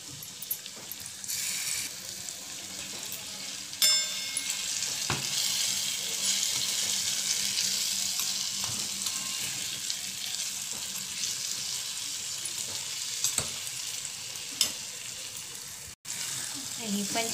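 Cashew paste sautéing in a pan for matar paneer gives a steady, continuous sizzle with faint scraping from stirring, fairly close and even throughout with a few soft clicks.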